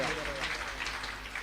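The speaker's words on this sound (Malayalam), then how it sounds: "കൈയടിച്ച് നന്ദി പറയാം." Congregation clapping in thanks during a church talk, a brief steady patter of many hands under a faint hum and some room voice.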